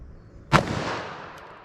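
.357 Magnum gunshot into a ballistic test target with fiberboard ribs, a single sharp loud crack followed by a decaying echo tail outdoors.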